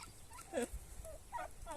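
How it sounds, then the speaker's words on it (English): Turkeys gobble close by in short, warbling bursts, a few calls spread over a couple of seconds at moderate volume outdoors. "Party time for the turkeys."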